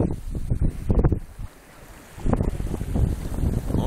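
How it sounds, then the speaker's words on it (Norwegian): Wind blowing from behind a sailboat off south-east Norway, gusty rushing wind noise over the hull and water, loud in bursts with a brief lull in the middle, no talk. "Og vinden bakfra."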